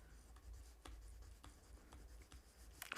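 A pen or marker scratches steadily by hand as a table is written out during a numerical analysis lecture, with soft repeated strokes and taps close by and no talking.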